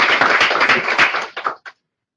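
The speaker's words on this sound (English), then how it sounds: "let's start by giving a round of applause to our presenters" A round of applause for presenters at an event: a brief burst of clapping from a group that thins out within about a second and a half, ending with a couple of last claps.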